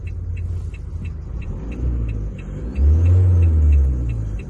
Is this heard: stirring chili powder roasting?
no